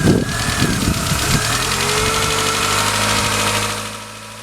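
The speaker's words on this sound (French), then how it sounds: "Allez, on démarre le moteur." A Citroën Saxo engine starts and settles into a steady, loud idle with a constant low rumble and hum, heard close with no talk.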